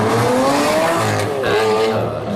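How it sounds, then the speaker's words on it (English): The Liberty Walk Lamborghini Aventador, built by Race Engineering, roars loud and close as its engine revs in rising and falling sweeps, with a brief break in the middle. "The first Liberty Walk Lamborghini Aventador in Europe"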